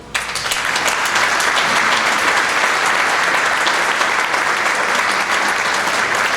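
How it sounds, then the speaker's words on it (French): At a Sainte Barbe ceremony, the audience applauds volunteer firefighters, loud continuous clapping from a sizable crowd, starting quickly and holding steady throughout. "Je pense que vous pouvez l'applaudir."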